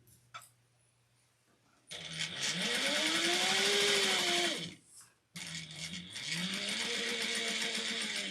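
Sewing machine stitching fabric for a two-toned snack bag, two sustained close whirring runs with a rising and falling motor pitch, separated by a short stop.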